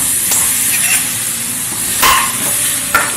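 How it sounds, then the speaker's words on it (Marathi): Jaggery dropped into hot ghee in a pan, giving a close, loud, steady sizzle with a few brief bursts of stirring and spatter over about three seconds. "हे बघा आपलं तूप गरम झालेलं आहे। आता आपण त्यात गूळ टाकून घेऊया।"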